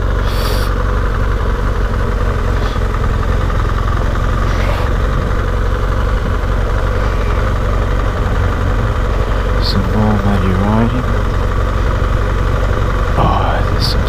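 A GS motorcycle engine runs steadily while riding through mud, a continuous loud mid-range drone with brief tonal rises; no clear talk over it.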